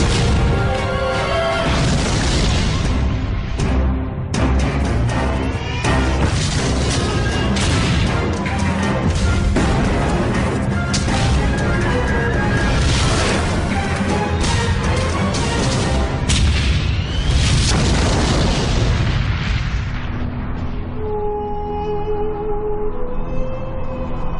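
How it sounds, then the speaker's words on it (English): Tank battle in open desert, with heavy explosions, booms and gunfire crashing almost continuously, loud and dense throughout, easing toward the end. "Two tank armies clash on a remote strip of desert"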